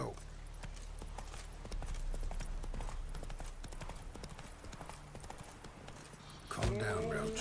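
The horse Roach from The Witcher 3 trotting, with a steady rhythmic clip-clop of hooves under game sounds and voices, before a louder burst of game noise near the end.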